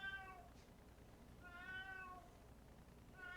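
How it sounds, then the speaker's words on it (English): A pet cat meows twice indoors, each a drawn-out, rising-and-falling call with a clear gap between them, a third starting at the end; fairly close and moderately loud over a quiet room. "And that's my cat meowing."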